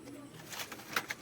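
A domestic pigeon coos softly in a cage inside a room, a few faint low calls spaced over a second with quiet background noise.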